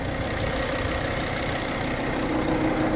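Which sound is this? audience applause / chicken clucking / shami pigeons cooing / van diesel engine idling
van diesel engine idling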